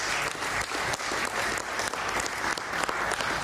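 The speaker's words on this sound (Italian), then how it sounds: "facciamole un applauso" Sustained audience applause at an Italian televised news event, dense and steady clapping filling the room for several seconds, loud and close with no talk over it.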